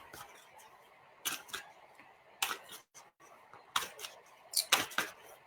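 A deck of cards is shuffled in several quick riffling bursts separated by short pauses, crisp and close in a quiet room.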